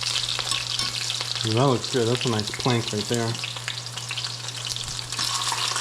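Food for a vegan ramen meal sears in a pan with a constant, bright sizzle, while someone speaks briefly and calmly over it near the middle.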